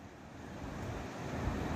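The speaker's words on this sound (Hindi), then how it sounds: "झरनों की आवाज भी आप वीडियो में सुन सकते हैं।" The Seven Sisters Waterfall at Cherrapunji gives a distant, faint, steady roar of falling water, with breezy wind noise over it and no voices.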